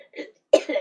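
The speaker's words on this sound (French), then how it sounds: "J'arrête pas de tousser, j'ai mal à la gorge." A person with a sore throat coughs twice in quick succession, close and sharp, the second cough louder and raspier than the first.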